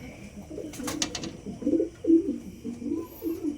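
Pigeons cooing close by, a series of soft throaty rolling coos repeating over a faint background hum.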